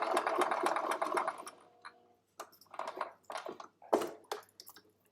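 A sewing machine stitches one leg of an X across fabric, first in a steady close run, then in short stop-start bursts after a brief pause.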